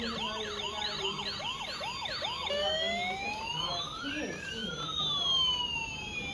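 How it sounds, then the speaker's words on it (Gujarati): A police car siren sounds nearby, starting with fast rising-and-falling yelps and then shifting into slower, overlapping wails, with voices faintly underneath. "પોલીસની ગાડી આવી"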